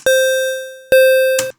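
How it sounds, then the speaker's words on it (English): Loud, buzzy synthesized square wave tone from Ableton Live's Operator, played in two sustained notes, then a short third burst, with no other sounds. "So with one square wave, it sounds like this."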